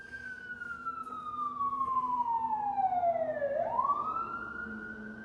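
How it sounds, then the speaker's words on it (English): An emergency vehicle siren sweeps past outside, its wailing tone sliding steadily downward, then dipping low and rising again as it passes, loud and continuous over a steady low traffic rumble. "I'm going to let that siren that's coming pass"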